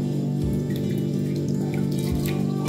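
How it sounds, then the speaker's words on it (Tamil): Black rice being rinsed by hand in water, with steady sloshing and splashing continuing throughout, close and fairly loud with no talking. "ரெண்டு மூணு கழுவு கழுவி எடுத்துருங்க."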